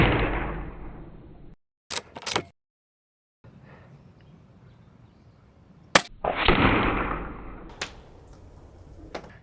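A Diana Outlaw .25 caliber air rifle fires with a sharp, loud crack, followed by sudden silences, a few more short impact snaps, and a noisy burst near the end.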